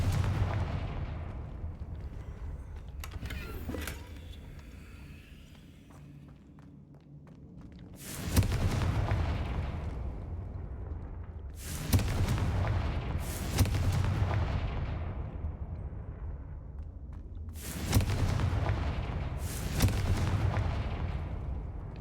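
Confringo blasting curse explosions in a Harry Potter video game: three heavy booming blasts spaced a few seconds apart, each a sharp crack swelling into a deep rumbling roar that slowly fades, with a quieter thump and low ambient rumble before them.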